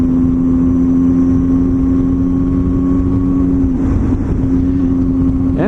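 A Triumph Tiger motorcycle on a Sunday ride gives a loud, steady engine drone with a constant low hum and rushing wind, the pitch shifting briefly near the end, with no talking.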